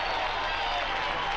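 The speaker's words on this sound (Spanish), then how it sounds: "un gran aplauso también quiero pedir para Guilla Roma en guitarra y Claudio Cardón en teclado" Applause from a live television studio audience after musicians are introduced, guitar and keyboard players credited; a dense, steady wash of clapping held throughout a short stretch, fairly loud and close.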